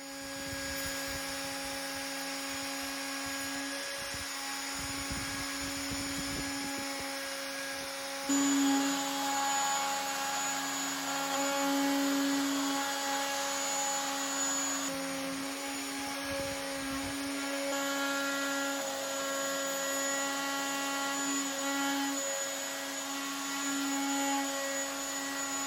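A woodworking router fitted with a wide flattening bit runs in a simple shop-made router jig, a steady loud high-pitched whine with shifting pitch as the bit cuts across the surface, continuous throughout with no talk.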